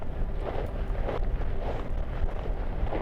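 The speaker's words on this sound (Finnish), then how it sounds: "Aivan mahoton tuo tuuli." Strong wind roaring and buffeting against the microphone in a steady, rumbling rush with no voices, out in the Kaldoaivi wilderness.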